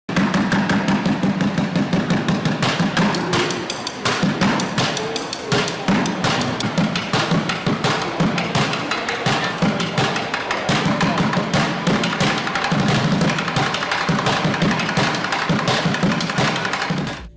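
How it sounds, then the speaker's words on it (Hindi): Street drummer beats empty plastic buckets with two drumsticks, a dense, loud stream of fast rhythmic thumps and sharp cracks that continues steadily throughout with no talking. "यह आदमी सिर्फ 2 ड्रम स्टिक्स और कुछ खाली बाल्टियों का इस्तेमाल करके कमाल का"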